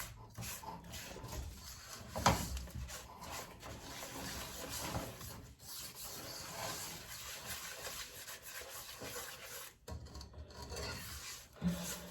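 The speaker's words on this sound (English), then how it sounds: "stirring, stirring, stirring until it gets brown. Make sure it don't stick to the bottom in no kind of way." Spoon scraping and rubbing the bottom of a pot while caramel is stirred for a rum cake, a continuous close rasping with occasional louder knocks.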